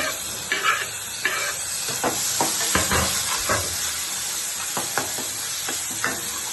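Tomatoes go into a pan of onions fried almost red for an Indian potato bhaji, and the frying sizzles steadily while a spoon scrapes and stirs with repeated clacks and rustles.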